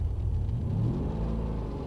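A Mercedes-AMG car accelerates on a track at a driving circuit, its engine a steady, loud low-pitched rumble that holds constant throughout the short stretch with no talking.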